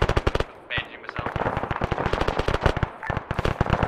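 Rapid bursts of autocannon fire in the Arma military game, dozens of sharp, loud, close shots in quick rhythmic strings with brief gaps, dominating the scene.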